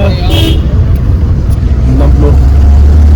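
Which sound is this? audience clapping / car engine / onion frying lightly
car engine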